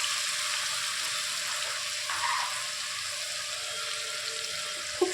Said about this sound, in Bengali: এবার টমেটোটা একটু তেলে নেড়ে নিয়ে দিয়ে দেব